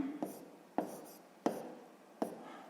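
A pen writes on paper while solving a sixth-grade maths exercise, with four quick scratchy strokes coming at an even pace, each one fading out. The strokes are close and fairly quiet, with no talking.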